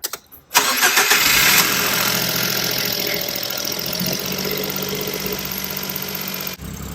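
A Nissan NV100 Clipper engine with new NGK iridium spark plugs cranks, fires up and settles into a steady, close idle with a faint knocking rhythm.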